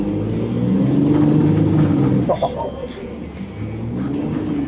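A Ford Ranger with an EVC throttle controller set to ultimate 9 accelerates. Loud, close engine rumble rises in pitch, breaks off at a gear change with a brief clatter, then settles into a lower, steady drone.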